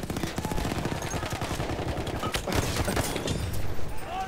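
Full-auto gunfire from the M1907 SL Sweeper in Battlefield 1 multiplayer, rapid continuous bursts of close, loud shots rattling over a busy battlefield din.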